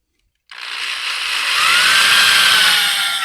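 A cordless drill or driver runs steadily for a few seconds, driving screws into the wall mount of an Adjust-A-Gate AG72 baby gate, with a whirring motor tone close to the microphone and no talking.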